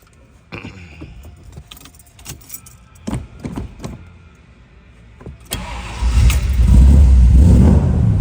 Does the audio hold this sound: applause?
no